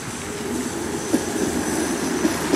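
A Transmash 71-405 tram, coupled set 1071+1072, runs past with a steady broadband rail rumble and faint wheel clicks, close and continuous throughout with no voices.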